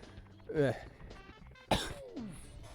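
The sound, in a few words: cough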